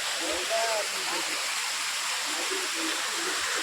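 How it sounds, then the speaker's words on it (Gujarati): Water rushes steadily down from a hill at Girnar in Junagadh, a dense continuous roar of stream or waterfall that masks faint voices beneath it. "આ તો ઉપરથી પાણી આવે ડુંગરાની ઉપરથી પાણી આવે"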